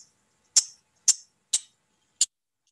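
A recorded water rail song plays as four sharp, high, evenly spaced notes against silence, each a short bright chip, clear and close.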